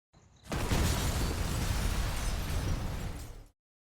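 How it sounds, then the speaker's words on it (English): A sudden loud explosion that rumbles and roars for about three seconds before cutting off abruptly. "an explosion kills him"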